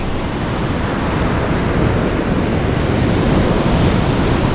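Ocean surf at Centerville Beach: a loud, unbroken roar of breaking waves mixed with breezy wind buffeting the microphone, with no voices.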